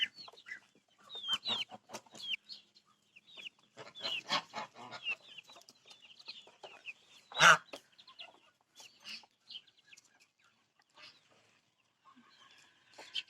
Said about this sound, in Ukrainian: Вже підросла ділова курочка.